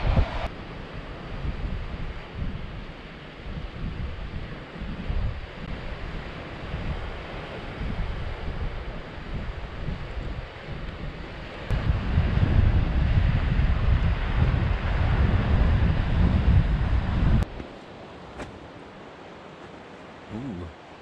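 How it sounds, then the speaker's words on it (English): Strong wind buffets the microphone along a Newfoundland shore while surf rolls and washes in beneath it, the roar swelling louder for several seconds before easing back to a steadier rush. "Welcome to the windy shores of Newfoundland."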